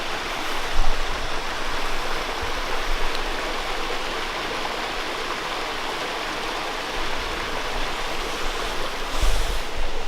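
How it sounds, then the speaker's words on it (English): A small waterfall pours into a gorge at McConnell's Mill State Park in autumn, giving a steady, full rush of falling water close by with no voices. "There's a small waterfall down here."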